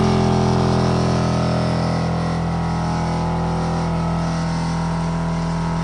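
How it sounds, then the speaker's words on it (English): An onboard air compressor airs up all four tires at once, giving off a loud, steady, unbroken mechanical hum with strong low tones that hold even throughout. "It's airing it up currently. All 4 tires are getting aired up at the same time."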